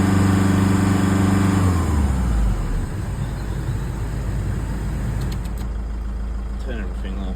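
A Citroen Relay 3.0 HDi diesel engine, run during an alternator check, holds a steady raised rev before dropping back to a lower, even idle, close and loud throughout.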